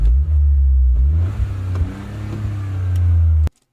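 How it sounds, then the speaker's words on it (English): A small-displacement three-cylinder car engine revs nearby, loud and rumbling, rising and falling before cutting off abruptly at the end, with no talk over it. "3-cylinder engine sounds like that with such a small displacement"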